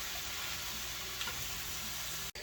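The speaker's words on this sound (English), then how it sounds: "This way it'll kind of saute with the garlic and everything." Spinach sautéing with garlic and bacon in a pan, a steady, fairly loud sizzle and crackle that runs without a break, with one sharp brief drop near the end.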